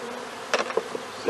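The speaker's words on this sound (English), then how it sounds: "an interesting thing about bees, almost all of the bees in the hive are female" Honeybees buzz at the hive in a low, steady drone close by, with a few brief louder taps and knocks breaking through.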